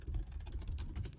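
Quick run of keystrokes on a computer keyboard, close and moderately loud, lasting just over a second with no voice.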